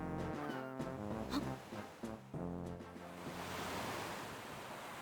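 Ocean waves wash steadily through the ambience of a Nintendo DS Zelda game, a continuous surf rush beneath layered synthesized music tones, loud and unbroken with no talk.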